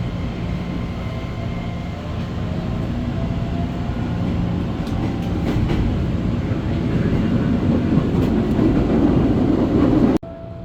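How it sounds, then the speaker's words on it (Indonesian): A train pulls away from Tiga Raksa station with a steady, broad rumble that slowly builds in loudness as it gathers speed, ending in an abrupt cut. "tepat jam 8:46 kereta pun diberangkatkan kembali"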